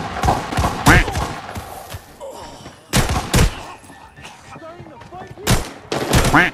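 Bursts of automatic rifle fire in the shooter game Arena Breakout on the Northridge map, three loud rapid volleys separated by quieter gaps, with a voice speaking between them.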